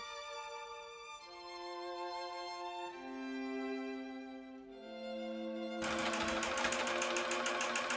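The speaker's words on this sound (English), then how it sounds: "Sew along the edges, but remember to skip that opening." A sewing machine stitches along the edges of a scrap-fabric bookmark, its motor whirring steadily and shifting pitch between runs, then growing louder and busier near the end, with no talk.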